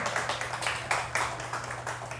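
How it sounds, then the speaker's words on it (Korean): A church congregation claps in a steady, rhythmic beat during a worship lecture, sharp repeated claps over a low steady electrical hum. "우리 하나님께 영광의 박수를 올려드립시다"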